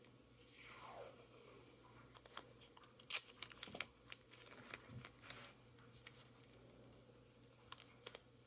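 Scissors snip through paper planner pieces in a quiet room, with a run of close, crisp cuts clustered together and a few fainter snips and rustles afterward.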